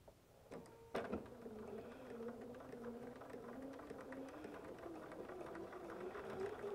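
Home sewing machine stitching steadily along the inside fold of a quilted pillow cover, 1/8 inch from the edge, a continuous close whir that speeds up slightly, with a few sharp clicks near the start.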